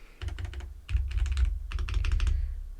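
Quick bursts of typing on an affordable mechanical keyboard, close and clear, with crisp clacky keystrokes in three rapid runs over a low thumpy bottom end, no talking.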